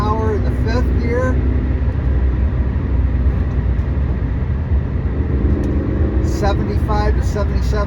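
A 957 Porsche Cayenne GTS with six-speed manual cruising in fifth gear on the highway, a loud steady engine drone and road roar, with someone talking over it.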